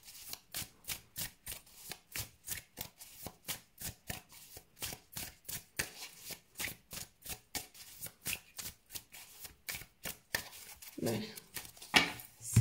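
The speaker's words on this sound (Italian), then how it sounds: "Rimescoliamo le carte per bene" Tarot cards are shuffled in a quick, even rhythm of crisp riffling slaps, close and fairly quiet, with a short voice near the end.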